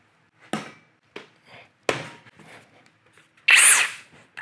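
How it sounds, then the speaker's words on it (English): Several short bursts of a power drill, separated by brief pauses, ending in a louder sustained whine up close. "You want to see this thing drill a hole?"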